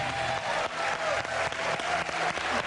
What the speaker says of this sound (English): Yeah, keep applauding.